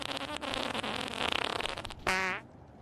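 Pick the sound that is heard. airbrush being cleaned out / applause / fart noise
fart noise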